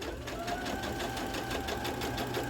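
A sewing machine runs steadily, stitching along a line of pins down the seam of a thrifted pant leg, with a fast, even mechanical chatter close to the microphone.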